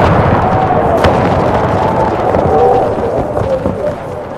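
Musket volleys crackle and boom across a Total War: Empire battlefield, a dense continuous rumble of gunfire and distant blasts with sporadic sharper cracks, loud throughout.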